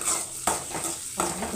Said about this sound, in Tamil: கொஞ்சம் உப்பு போட்டு நல்லா வதக்கணும்.